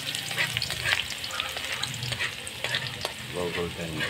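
Garlic sautéing in a frying pan at breakfast cooking, a steady sizzle with scraping stir strokes from a utensil throughout, close and continuous with no talk.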